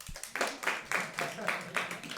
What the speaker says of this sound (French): J'aime bien les applaudissements.